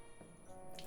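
Rinse water drains from a pot of washed rice while making onigiri, a brief, faint trickle with soft dripping and splashing, heard alone.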